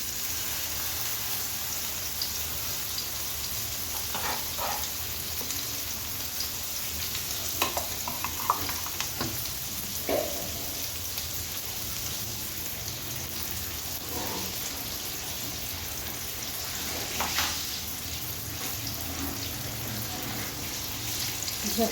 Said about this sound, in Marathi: वाटण लावून तळण्यासाठी ठेवत आहे.